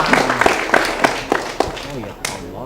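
Students at a vocational school event in Palembang clap in a quick, loud, rhythmic series of claps, with voices talking over them.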